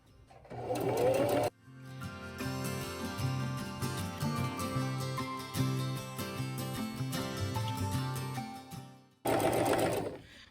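A sewing machine runs a basting stitch on cloth napkins, with loud, close bursts of whirring motor at the start and end and a steadier tonal stretch between them.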